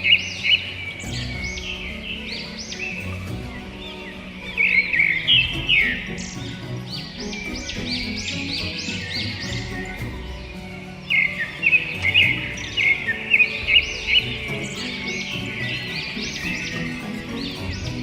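Birds chirp and tweet repeatedly in bursts, bright and fairly close, over a low rumbling outdoor background.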